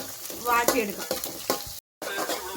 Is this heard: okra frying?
yes